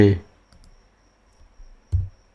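Computer keyboard clicks as a search term is entered: a short burst of sound at the start, then a few faint, scattered taps and one sharper, louder click near the end, close by in a quiet room.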